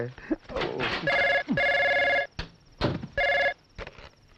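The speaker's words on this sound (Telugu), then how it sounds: "ఎవడయ్యా వేళకాని వేళ ఫోన్ చేసేది?" A telephone bell rings in repeated bursts, with voices speaking between and around the rings.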